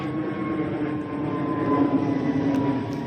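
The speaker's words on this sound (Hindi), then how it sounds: "यहाँ पे उड़ रहा है जहाज़ ऊपर से, और जहाज़ की आवाज़ आ रही है" Airplane flying overhead above a farm field, a steady broad roar with a faint drone that swells slightly, loud and continuous with no voices.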